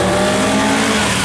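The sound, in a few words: Lotus Elan 26R race car with 1600 engine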